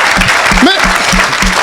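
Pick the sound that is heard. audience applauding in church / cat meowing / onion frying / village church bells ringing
audience applauding in church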